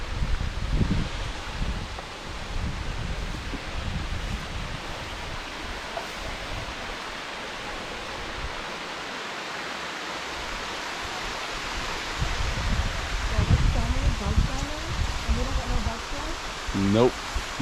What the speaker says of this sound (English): I knew I heard water.